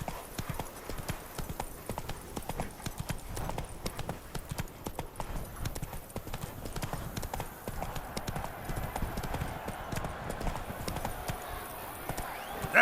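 In Witcher 3: Wild Hunt, a horse gallops with a rapid, continuous clip-clop of hooves, steady and close, with a voice heard faintly over the rhythm.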